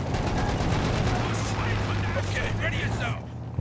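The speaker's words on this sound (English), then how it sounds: "Or incendiary artillery, whatever it is." Artillery shells land in a rapid, sustained barrage of dense blasts under continuous talk during a Company of Heroes 2 2v2 match, an incendiary artillery strike on a battlefield.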